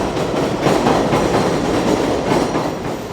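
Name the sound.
train passing by Corona Park, NYC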